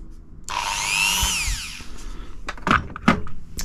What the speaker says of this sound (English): So I've got to use my little Dremel tool just to cut out that hole